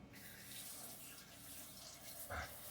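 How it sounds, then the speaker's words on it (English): Water runs steadily from a kitchen tap as hands are rinsed beneath it, with a soft continuous splash while preparing flour biscuit dough and a brief louder splash near the end. "I'll rinse my hands again and again and again."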